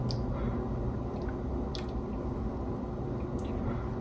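A spoon gently stirs chocolate melting into hot cream for a chocolate tart, making soft, close, wet squishing sounds at a low level throughout, with no talking.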